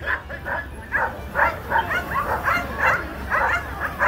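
Sled-pulling dog at a weight-pull event at a winter festival in Frankenmuth, Michigan, giving a rapid run of close, repeated barks and yips at a steady rhythm.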